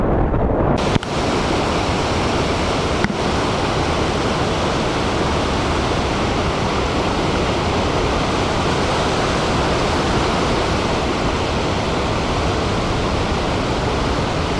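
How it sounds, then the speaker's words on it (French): Dozens of waterfalls pour strongly into a canyon after a night of rain, making a dense, unbroken rushing roar that stays loud and even throughout, with a brief dip and thump near the start. "Comme il a plu toute la nuit, évidemment, ça coule toujours très fort."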